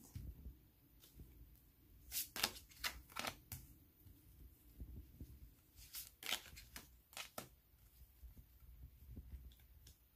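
Tarot cards being shuffled and drawn, giving quiet, close, intermittent bursts of crisp riffling and slapping with brief pauses between, over a faint low background hum.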